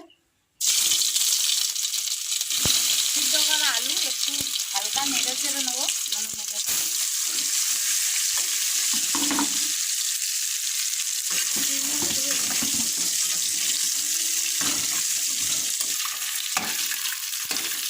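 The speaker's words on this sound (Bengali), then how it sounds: "ডিম আর আলু কটা ভেজে নেবো এই কড়া গরম হয়ে গেছে" Eggs and potatoes fry in a hot kadai wok for homemade rice biryani, a loud, continuous close-up sizzle and crackle that runs nearly the whole stretch after a brief silent start, with a faint voice now and then.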